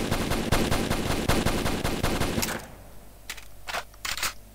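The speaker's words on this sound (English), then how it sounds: "Assault rifle. Very good accuracy." Assault rifle fire in a video game, a dense, loud burst of rapid automatic shots lasting a few seconds, then a pause and a couple of shorter bursts, with no voices over it.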